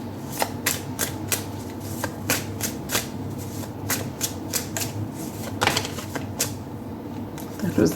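Tarot cards being handled and shuffled, with repeated crisp riffling bursts and light slaps in an irregular rhythm, close and clear, with a voice talking at times.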